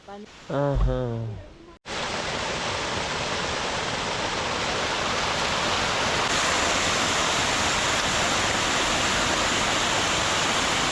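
Spring water rushes along a small stream in a steady, close, broadband wash that holds unbroken for about nine seconds, after a short burst of voice at the very start.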